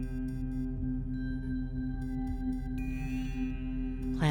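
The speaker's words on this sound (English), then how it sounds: "Let the Schumann tones carry you deeper." Sustained low drone tones for grounding sound therapy, presented as Schumann resonance, hold steady with soft harmonic layers and a faint higher tone entering near the end, with no voice.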